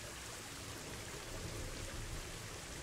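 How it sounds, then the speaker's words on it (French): Heavy rain falling in the video game Planet Zoo, a continuous dense hiss of downpour, steady and fairly faint, with no talking. "Il pleut à fond, là."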